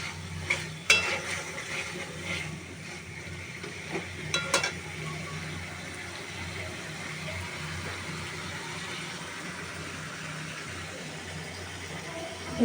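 Tomato being sautéed with spices in a pan for a katla fish curry, a steady low sizzle with a couple of brief scraping stirs near the start, continuing evenly without talk.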